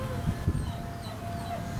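A Doberman puppy whimpers and yips briefly in excitement over treats, a couple of short low bursts close by over a steady room hum.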